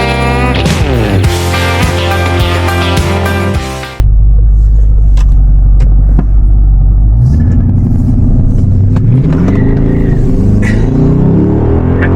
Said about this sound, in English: I have to admit that the V8 does make a pretty awesome sound.